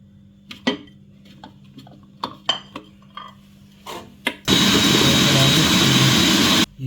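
An electric food chopper whirs loudly and steadily for about two seconds while preparing chicken nugget mixture, following a few scattered clicks and knocks of handling.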